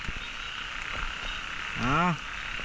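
Young frogs croak in a wet rural outdoor setting during rain, with one clear rising-falling croak call near the end standing out above steady background noise and faint distant talk.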